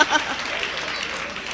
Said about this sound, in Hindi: एक बार सारे लोग जोरदार तालियां बजाइए।